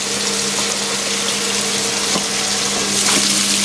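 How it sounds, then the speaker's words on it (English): A 1996 Whirlpool washing machine fills with hot water, a loud steady rushing of water through the inlet with a constant pump-like hum underneath and a few faint clicks. "here comes the hot water"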